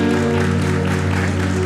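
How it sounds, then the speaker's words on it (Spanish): A church congregation at a Sunday service breaks into applause, a brief dense wash of clapping over a steady sustained tone, close and fairly loud. "Debería dar un aplauso, sí."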